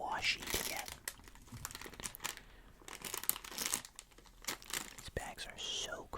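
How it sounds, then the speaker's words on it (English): A plastic Squashies candy bag is handled up close, producing loud, irregular crinkling and crackling bursts between quieter pauses, with soft whispered talking underneath. "These bags are so crinkly, I'm sorry if it's a little loud."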